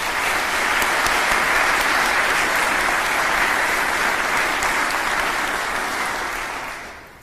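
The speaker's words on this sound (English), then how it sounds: "Please give them a round of applause." Audience at a military promotion ceremony claps in a full, sustained round of applause that holds steady for several seconds and then fades out.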